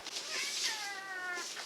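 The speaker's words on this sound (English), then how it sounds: "Kitty, you can't go in the attic." A cat meows indoors, one long, wavering, drawn-out meow, close and clear.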